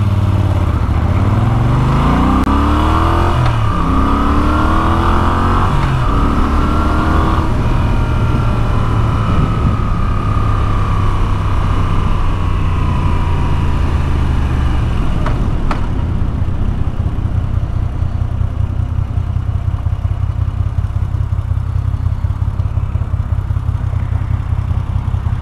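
A Moto Guzzi V7 850 motorcycle on a daily ride pulls away with rising, shifting engine revs over the first fifteen seconds, then settles into a steady, low idling rumble under constant wind and road noise.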